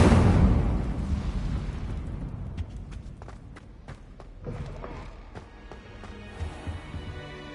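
A fiery blast from the Incendio spell in Hogwarts Legacy opens with a loud roaring burst that dies away, followed by scattered thuds, crackles and footsteps.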